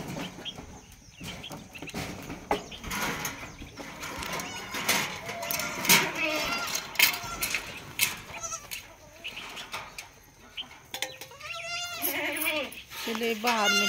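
Goats bleat on a farm during hand milking, with several cries that grow clearer toward the end, mixed with people talking and other livestock noise close by.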